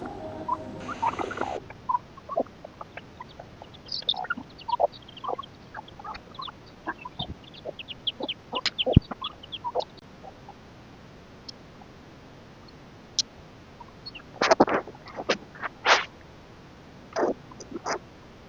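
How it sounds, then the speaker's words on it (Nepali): Domestic turkeys kept at a house in Sikkim give scattered short gobbling and chattering calls in the morning, with sparse bursts separated by quiet gaps and a few louder clusters near the end. "बिहानीको हाँसो चाहिँ टर्कीको हाँसोबाट सुरुवात भयो है त"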